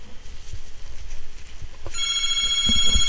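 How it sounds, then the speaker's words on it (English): A phone ringtone starts up loud and close, a harsh repeating electronic ring over faint background clatter. "that is the most annoying ring I've ever heard."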